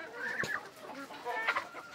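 Guinea fowl kept among mixed farm animals give a few harsh, clucking cries at moderate distance, short bursts over a quiet background with no speech.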